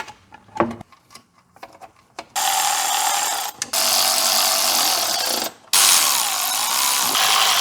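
A tool runs on the oil pan fasteners of a Mercedes, starting with a few scattered clicks and then giving three long, loud, steady mechanical whirring runs separated by brief pauses.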